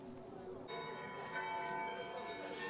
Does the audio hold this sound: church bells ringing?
yes